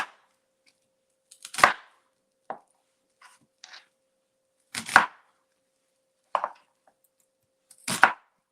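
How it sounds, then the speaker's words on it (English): A knife rough-chops vegetables into big chunks on a cutting board for blended salsa, giving sparse, sharp thuds spaced a second or two apart, close and clear in a quiet kitchen. "We rough cut it since we are blending it."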